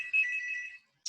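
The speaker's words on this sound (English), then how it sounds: "Sorry, that's my phone." A mobile phone ringtone sounds alone in a quiet room, one bright sustained electronic chirp lasting most of a second before cutting off, then the start of another burst.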